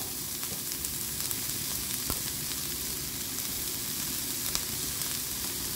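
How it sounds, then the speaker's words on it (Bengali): Vegetables sauté lightly in a pan with a little oil, giving a soft, steady sizzle and crackle with occasional faint stirring clicks, close by and with no talking. "জাস্ট একটু হালকা সটে করে নিলাম"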